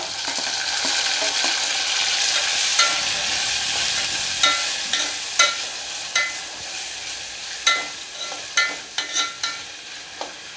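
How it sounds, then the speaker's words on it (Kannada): Chopped tomato frying in an onion tempering for Udupi-style sambar, a steady close sizzle punctuated by a series of sharp spatula scrapes and clinks against the pan, with no talking. "ಈಗ ಟೊಮೆಟೊ ಹಾಕೊಳ್ಳೋನು ಒಂದು ದೊಡ್ಡ ಟೊಮೆಟೊ ಹೆಚ್ಚಿಟ್ಕೊಂಡಿನಿ ಇದನ್ನು ಹಾಕೊಳ್ಳೋನು ಒಗ್ಗರಣೆಗೆ"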